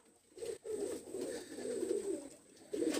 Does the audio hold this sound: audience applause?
no